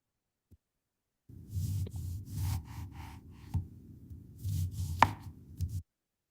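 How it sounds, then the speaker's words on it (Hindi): A knife chops food on a board in an AI-generated ASMR cooking scene, a run of soft, crisp, evenly spaced cuts with a muffled low thud under each stroke and one sharper click partway through. "कटिंग साउंड आ रहा है सबको?"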